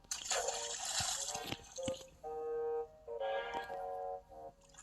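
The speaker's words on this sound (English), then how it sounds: "Hedgehog dipped a foot in the murky water, then dived." A hedgehog dives into murky water with a short burst of splashing, followed by brief tonal notes.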